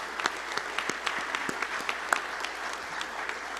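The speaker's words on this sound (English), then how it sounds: "Everyone give them a round of applause" Applause from the crowd at a university athletic hall of fame banquet, a steady, moderately loud patter of many hands with a few sharper individual claps standing out, sustained throughout.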